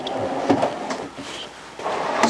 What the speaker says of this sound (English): full extension drawers, which are really nice